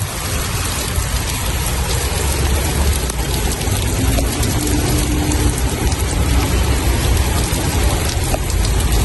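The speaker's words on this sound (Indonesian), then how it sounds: "disusul oleh hujan yang cukup deras melanda kawasan Mina, Arab Saudi" Heavy rain pours down in Mina, Saudi Arabia, a dense, loud and steady hiss of downpour with rapid clattering drops on hard surfaces throughout, and no voices.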